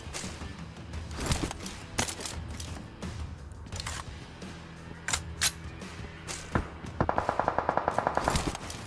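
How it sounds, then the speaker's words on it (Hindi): In PUBG Mobile, scattered gunshots crack amid game ambience before an automatic weapon fires a rapid, loud burst of a dozen or so shots near the end. "तो सामने की तरफ भी फायरिंग चल रही थी"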